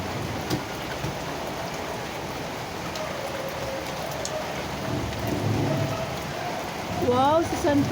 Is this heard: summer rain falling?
yes